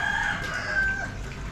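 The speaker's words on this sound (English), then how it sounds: "That rooster" A rooster crows in a tropical neighborhood setting in Sanur, Bali, one sustained call carrying over steady background ambience with no talk.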